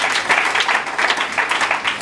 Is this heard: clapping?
yes